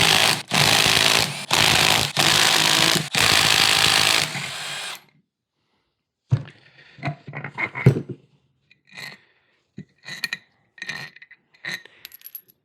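Power tool and ratchet work on a 4L60E automatic transmission, starting with loud bursts of a driver spinning, then a pause, then scattered metallic clinks and clatter of bolts and a 13 mm socket, close up with no talk.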